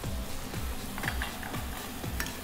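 Smashed beans are stirred in a cooking pan with broth, soft scraping strokes in a loose rhythm over a faint steady sizzle, close and fairly quiet.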